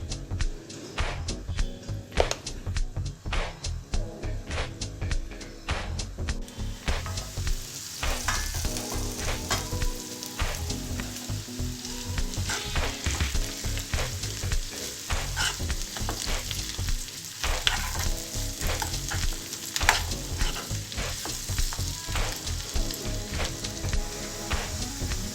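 Pieces of jungle karela (spiny gourd) fry in a pan for a home-style stir-fry, giving a steady, close sizzle for the whole stretch with busy crackle and a rhythmic, tonal layer running beneath it.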